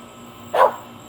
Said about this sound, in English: the dog has come out and barked